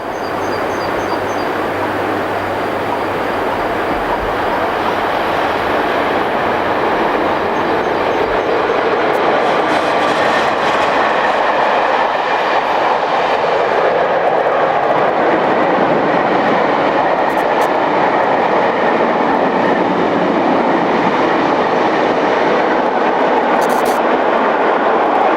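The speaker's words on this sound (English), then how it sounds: "11687 powers up the grade with a southbound passenger working." Swiss Class 620 Re6/6 electric locomotive hauling a southbound passenger train up the grade on the Gotthard route south of Zgraggen, a loud, continuous rolling roar with rail noise passing close by, no voices.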